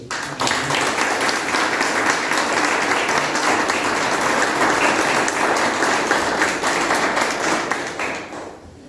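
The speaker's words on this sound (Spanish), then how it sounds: "Dale un aplauso a Dios" A church congregation claps in a sustained, dense round of applause that holds steady for several seconds before fading at the end.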